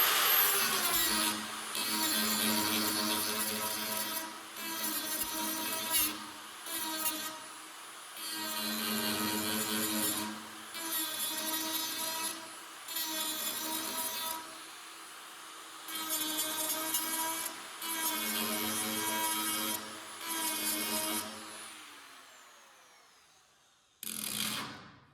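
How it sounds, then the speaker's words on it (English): An angle grinder fitted with two stacked cutoff discs grinds a metal edge during welding and fitting work on a 1959 Buick and a 1958 Plymouth. It runs in repeated whining bursts of a few seconds, separated by short pauses, and winds down at the end. "I should double up the cutoff discs when I use them to grind on the edge"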